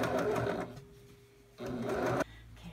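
A sewing machine stitches in two steady running bursts separated by a quieter pause, with a faint whine and a mechanical hum throughout, close and moderately loud, with no talking.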